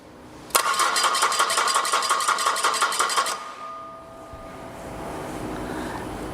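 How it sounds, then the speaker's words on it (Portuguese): A car engine being cranked and started: about three seconds of loud, rapid starter-motor grinding, then the engine catches and settles into a quieter, steady idle. "eu vou dar partida no motor."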